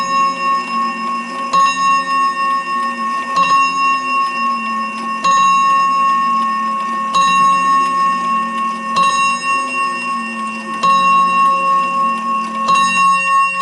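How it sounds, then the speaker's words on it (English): A German Napoleon hat mantel clock with Westminster chimes set to silent runs its mechanism, a steady tonal whir with faint ticking and periodic soft clicks as the motion cycles, close and alone. "So you can hear it's going through the motor, so you can't hear the Westminster chimes"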